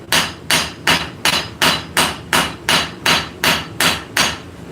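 Hot metal hammer-forged in a workshop with a power hammer and peen, a steady, evenly spaced run of about eleven loud, close strikes, each ringing briefly before the next.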